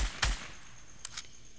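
Gunfire in the Fortnite video game: a sharp nearby shot followed by two quicker, fainter cracks, all within under two seconds.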